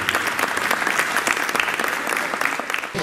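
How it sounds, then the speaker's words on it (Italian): A crowd at the Satyrion per l'Archeologia event in Leporano, Taranto, gives steady, close applause, a thick continuous patter of many hands that fades slightly just before the end. "E gli applausi."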